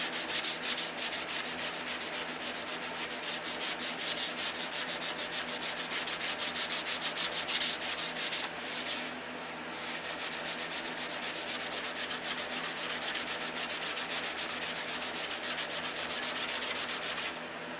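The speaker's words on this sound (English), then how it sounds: "That'll be taking an hour to get this sanded off." Steady, continuous sanding of paint on an aircraft repair, a close scratchy rubbing that carries on with only a brief pause midway, no voices over it.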